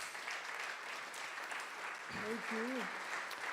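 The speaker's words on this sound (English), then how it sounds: "let's give applause to all our TPL members" Congregation applause for members during a church service, a sustained, moderately faint wash of clapping throughout, with a man's brief thanks heard over it near the end.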